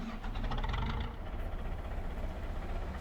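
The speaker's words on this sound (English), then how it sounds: "that sounds pretty. I like it. Might just be because it's my tractor." A small tractor engine in Farming Simulator 25 rumbles at a low, steady idle after starting up, close and continuous with no talk.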